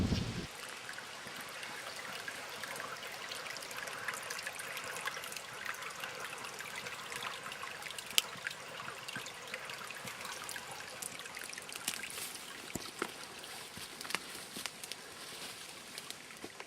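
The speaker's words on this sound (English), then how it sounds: "Now it's a stormwater drain that was installed, and that is designed to drain that swamp back there into the lake over here." Water trickling through a stormwater drain that carries a swamp's runoff into a lake, a steady, faint outdoor flow with no clear pauses.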